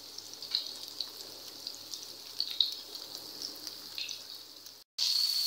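Beef kababs fry on a hot tawa with a soft, steady sizzle broken by small crackles and pops, heard close and alone, cut off briefly near the end before the sizzling returns louder.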